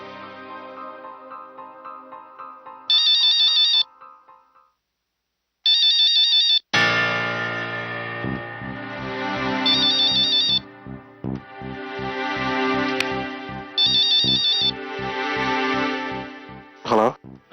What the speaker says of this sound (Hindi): मैं अभी फोन लगाता हूँ उसे।